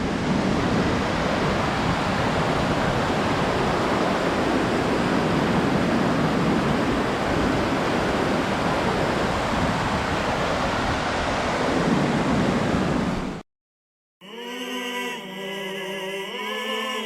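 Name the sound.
waterfall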